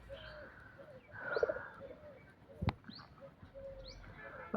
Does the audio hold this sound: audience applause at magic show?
no